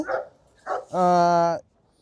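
Dogs at a dog market, including a two-year-old Alabai, bark close by: two short barks, then one longer drawn-out howling bark.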